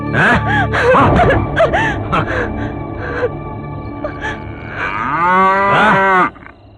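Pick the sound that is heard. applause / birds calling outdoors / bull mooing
bull mooing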